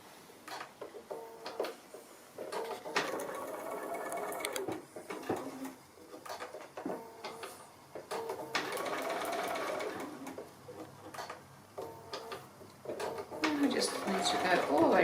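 A sewing machine runs a straight stitch close around the edge of an appliqué star, in bursts of rapid whirring with short pauses between runs, alongside a person talking quietly.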